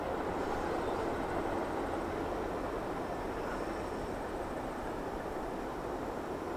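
A westbound freight train carrying mixed cargo such as car parts rolls past, a loud, steady broadband rumble and rushing roar that holds constant from start to end with no voices.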